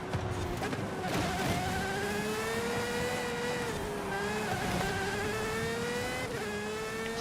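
A Pagani car's engine revving in Forza Horizon 5, a sustained tonal whine rising and dipping through gear changes, loud and continuous over a rushing background.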